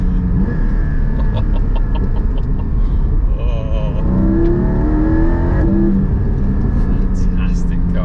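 Engine of a Porsche 718 Cayman GT4 with PDK gearbox revving hard through gear changes, a steady loud drone rising in pitch and stepping between gears, heard from inside the car with a voice talking over it.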